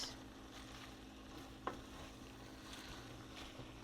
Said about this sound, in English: we're just going to add our spinach and stir it until it gets wilted